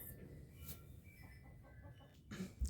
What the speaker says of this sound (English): listen to the chickens because it's so nice